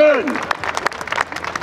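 Live audience at a comedy stage show applauding for Hermann, a burst of clapping that sets in as a voice trails off and then carries on as a steady patter of claps.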